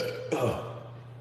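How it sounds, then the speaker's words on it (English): A single short, low burp rises out of quiet background noise, close and fairly soft, lasting about a quarter of a second. "Burps hurt sometimes."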